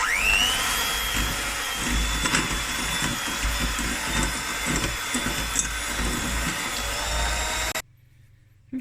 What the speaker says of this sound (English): now I'm going to mix this until it's light and creamy and fluffy